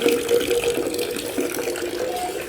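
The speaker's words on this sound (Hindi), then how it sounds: "तो जग में पानी डालने लगी हम लोग" Water pours steadily into a jug in a home kitchen, a continuous close, fairly loud splashing flow with no talk.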